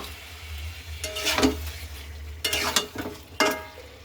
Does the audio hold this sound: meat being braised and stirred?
yes